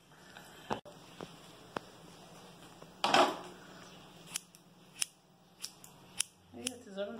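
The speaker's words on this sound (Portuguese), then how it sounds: "A tesoura não tá cortando nada?" Sharp scissor snips cutting a husband's hair at home, about eight crisp, irregular clicks spread across the stretch over a quiet room, with a short burst of denser cutting in the middle and a brief voice near the end.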